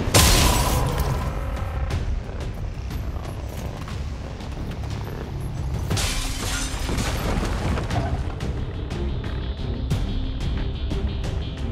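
Bombs blast in the video game XCOM 2, opening with a heavy boom that rolls into a sustained, dense rumble of debris and crackling, loud and continuous throughout.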